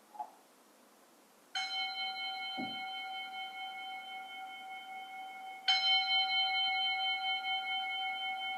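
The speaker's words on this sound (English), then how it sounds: "even when the bell rings" A meditation bell is struck twice, several seconds apart, each strike a clear, ringing metallic tone with rich overtones that sustains and slowly fades, heard alone in a quiet room after a faint earlier tap.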